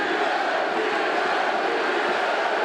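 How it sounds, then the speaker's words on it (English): Dense arena crowd at a UFC fight between Nate Diaz and Michael Johnson chanting for Diaz, a continuous loud, even roar of many voices with no pauses. "The chants of Diaz emerged through the crowd."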